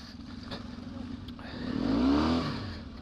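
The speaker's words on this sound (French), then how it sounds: "Le moindre coup de gaz, ça patine direct." A KTM dirt bike engine revs up in a rising burst off-road, the rear wheel spinning, after a quiet idling start.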